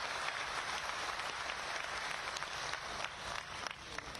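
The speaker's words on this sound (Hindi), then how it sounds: "संवाद का जवाब तालियों की गड़गड़ाहट से जो उधर से मिल रहा है" Sustained applause from a crowd at a political rally in Hisua, Bihar: dense, steady clapping filling the whole stretch at even loudness with no pauses.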